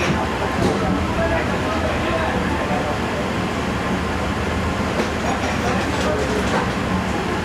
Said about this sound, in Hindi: रायविंड जंक्शन से रवाना हो गई है ट्रेन